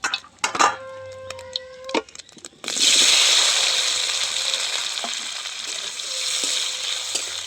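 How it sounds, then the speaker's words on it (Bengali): Potatoes slid into hot oil in a pan for a Bengali egg posto dish: a few clinks and brief tonal sounds, then an abrupt loud, steady sizzle that carries on to the end. "এবার আমি একই রকম করে আলুটাও ভেজে নেব।"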